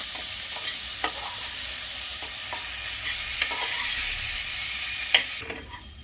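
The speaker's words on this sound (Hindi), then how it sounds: "इसे लगभग मैं 3 से 4 मिनट भूनूंगी।" Onions fry with a constant, bright sizzle in a pan while a spatula scrapes and stirs at irregular intervals, close up and without talk.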